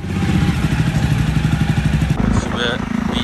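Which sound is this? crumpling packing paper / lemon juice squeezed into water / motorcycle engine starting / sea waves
motorcycle engine starting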